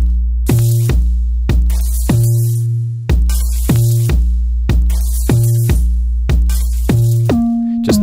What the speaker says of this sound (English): It's just a couple of pieces of glass being splintered around.